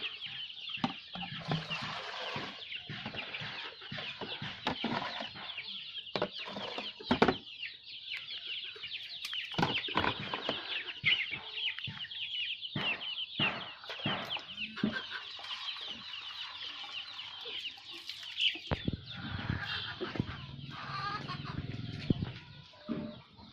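A flock of ailing young chickens keeps up steady, overlapping clucks and peeping chirps nearby, a dense chorus with occasional louder bursts and no voices.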